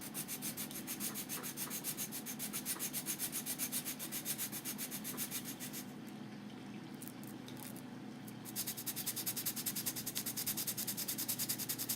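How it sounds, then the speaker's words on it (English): A sanding block rubs back and forth over a small part of a Phoenix Models Sukhoi SU-31 model airplane, quiet close rhythmic scratching strokes that pause briefly midway, then resume, with no talking. "I'm going to take my block here. See if I can manage to hold on to that. Sand this down real thin."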